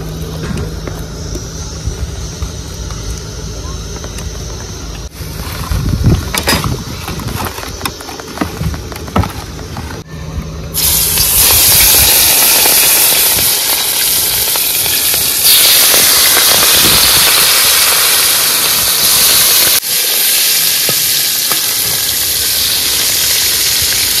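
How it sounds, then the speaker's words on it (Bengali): Fish rubbed with salt and turmeric fries in hot oil outdoors during a river trip in the Sundarbans, starting as a quieter crackle with knocks and then swelling into a loud, steady roaring hiss. "মাছও ভাজা হয়ে গেছে, এবার নামিয়ে দিচ্ছি"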